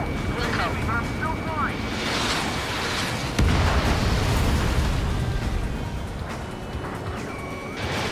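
A large explosion in the air-combat video game Ace Combat 7 sets off a heavy rumbling boom that swells partway through and keeps roaring, with radio-style voices talking over it.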